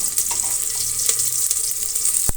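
Sliced onion and curry leaves frying in hot oil for a ridge gourd sambar, a steady hiss with a few crackles and a brief thump near the end.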